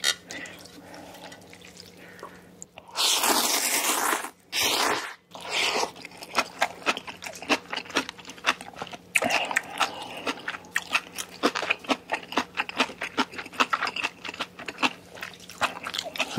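Close-miked bites and crunchy chewing of spicy ramen and a large king tiger prawn, with a loud burst of crunching early on followed by repeated wet, slurpy mouth sounds and smacks.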